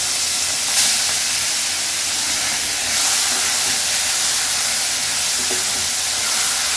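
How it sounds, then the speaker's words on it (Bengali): Small fish coated in salt and turmeric frying in a very hot pan for a Bengali fish curry, giving a steady loud hiss and crackle throughout with no talk. "আর বাকি মাছটাও আমি একটু দিয়ে নেবো, হালকা করে ভেজে নেবো।"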